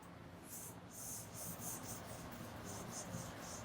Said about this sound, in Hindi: तो चलिए इधर लिख देते हैं इनको